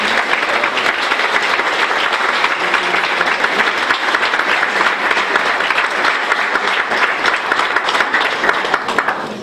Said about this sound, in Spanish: un aplauso para ellos y nuestra más sincera enhorabuena